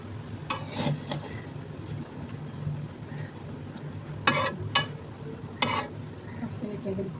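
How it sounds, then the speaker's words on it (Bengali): Spoon stirring and scraping through rice mixed with pre-cooked chicken in a pot for a spicy pulao, with soft intermittent scrapes, a few sharper clanks near the end, and a low steady background hum. "ভাতটাকে খুব ভালোভাবে মিশিয়ে নেব।"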